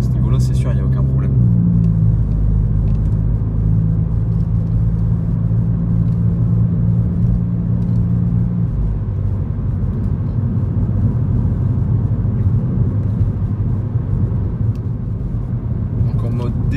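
Volkswagen Golf GTI running on ethanol, cruising in D mode in town: a steady low engine and road rumble throughout, with someone speaking French over it the whole time.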